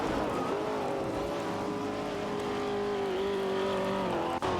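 Racing cars in a video game, a Holden Torana A9X and an Opel Commodore dueling, with steady high engine drone and shifting revs held throughout, loud and continuous with no talk.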